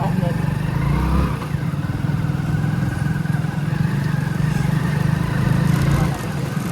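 Motorcycle rides along a village road, a steady close engine drone lasting throughout with a low rumbling hum and a little wind, while people talk faintly over it.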